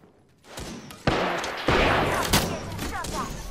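Gunfire in the battle game Apex Legends: a clattering volley with several sharp, loud shot impacts, followed by sustained shooting and a brief voice in the background.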